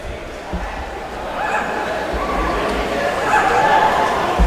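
At a PPW wrestling event, dogs give repeated yips and whimpering barks over a steady crowd din. The calls are scattered and of middling loudness, mixed into the constant background noise of the hall.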